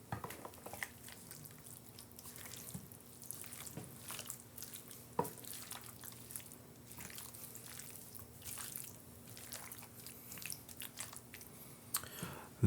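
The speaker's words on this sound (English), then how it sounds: "Now let's give this a little stir just to get all these vegetables coated." Broccoli and pearl onions stirred in a rich, creamy cheese sauce in a pan, giving soft wet squishing and dripping sounds in irregular bursts, close and fairly quiet, with no talking.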